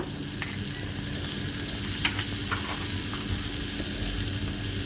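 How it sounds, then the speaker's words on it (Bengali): Onions sauté in hot oil, a close, even sizzle with intermittent stirring scrapes and a sharper clink near the middle, no voices present. "পেঁয়াজটাকে আমি ভালো করে নেড়ে হালকা একটু ভাজা ভাজা করে নিব, সতে করে নিব।"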